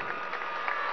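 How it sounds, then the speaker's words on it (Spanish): Brief applause from a crowd at an indoor political congress, soft and steady with faint cheering for about a second. "Vamos a darle un aplauso"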